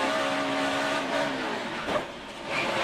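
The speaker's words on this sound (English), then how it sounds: "Kind of hear those tires break loose on the Carl's car" NASCAR race car tires breaking loose during a late-race caution, a loud roaring engine with a brief squealing smear, near and continuous.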